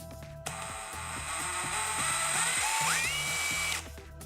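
A Stanley Fatmax brushless impact driver runs loud and close for about three seconds, giving a steady motor whine with a rapid rattling hammer pulse underneath and a rising pitch as it speeds up before cutting off.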